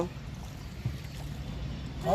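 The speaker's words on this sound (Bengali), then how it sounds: "নৌকা দিয়ে ঘুরবার আসছি।" A steady low rumble of a boat moving across water, with a constant wash of water noise and no clear voices.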